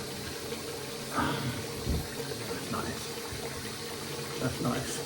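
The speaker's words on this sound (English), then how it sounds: "Cold water." Cold water runs from a tap into a sink during a straight razor shave, a steady wash of flow with faint splashing and a few louder gushes, heard close and alone.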